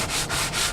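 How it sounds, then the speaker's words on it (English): Sandpaper scrapes back and forth over an antique wooden chair in three quick rhythmic strokes, close and raspy. "All right, so I'm still sanding it"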